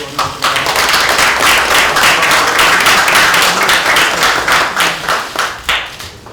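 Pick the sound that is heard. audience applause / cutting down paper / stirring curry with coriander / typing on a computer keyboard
audience applause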